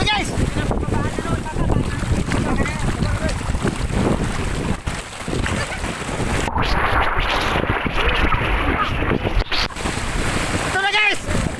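Strong water rushes loudly and continuously close by in a rural Bicol province setting, a dense roaring wash mixed with wind buffeting the microphone, with no clear pauses.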